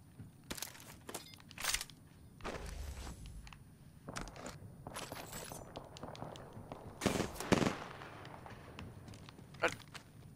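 Gunfire in the battle-royale shooter Apex Legends: scattered sharp shots and bursts ring out irregularly over a busy background of in-game movement and impacts, with a louder cluster of shots near the end.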